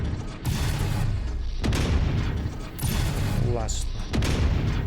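A mech in MechWarrior fires heavy weapons at a turret and destroys it: loud repeated booming shots in quick bursts, followed by a mechanical whir and a blast. Someone talks over the gunfire.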